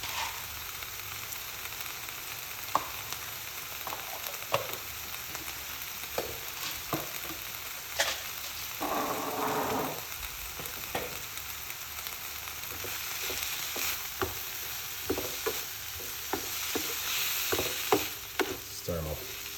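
Cloves and pimento seeds frying in hot oil while being stirred, a steady close sizzle with frequent scraping and clicking of the spoon throughout, no talking.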